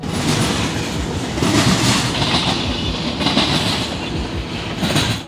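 The Rocky Mountaineer luxury train rolls along tracks beside a river in Canada, with steady loud clickety-clack of wheels over rail joints and a continuous rumbling carriage roar, with no voices.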